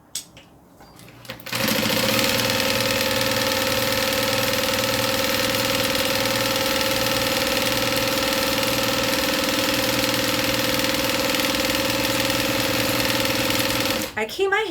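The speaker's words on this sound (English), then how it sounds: "sew right along the end" A sewing machine stitches steadily along the end of a long piece of fabric, a loud continuous mechanical whir that starts abruptly, holds an even hum with a rhythmic underlying pulse for about twelve seconds, then stops.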